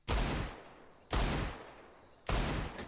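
Desert Eagle pistol firing in Counter-Strike: three loud, heavy shots about a second apart, each with a punchy crack and a lingering reverberant tail, nothing else in between.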